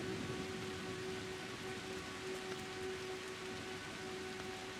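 Steady rain pours down outside a house in a rural area, a dense, even hiss of drops on surfaces, constant and close with no voices.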